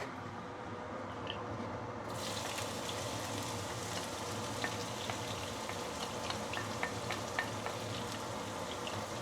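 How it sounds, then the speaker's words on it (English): Fresh herbs sauté in heated oil in a pan while cooking curry chicken, giving a steady, close sizzle and crackle with scattered pops that runs throughout without any talking. "Saute for a little while before we add in the rest."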